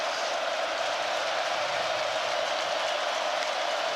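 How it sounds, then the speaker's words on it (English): A college football stadium crowd roars in a continuous, dense wash of cheering that holds steady and loud for the whole stretch, distant and diffuse with no individual voices standing out. "Here comes the crowd."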